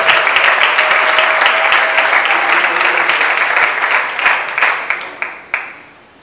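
A crowd applauds loudly and steadily, the clapping thinning out into scattered final claps near the end.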